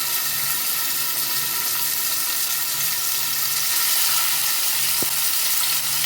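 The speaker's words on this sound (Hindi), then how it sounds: "अब एक फ्राई पैन के अंदर जो है ना मैंने थोड़ा सा ऑयल डाला और उसमें ये स्टिक्स रख ली।" Sticks frying in a little oil in a frying pan, giving a continuous, even hiss with a low hum underneath and one sharp tap near the end.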